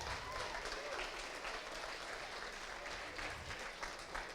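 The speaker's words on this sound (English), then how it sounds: "Big round of applause there." Sustained applause from an audience at a hackathon award show, a steady dense wash of clapping filling the whole stretch, with voices and faint cheering mixed into the crowd noise.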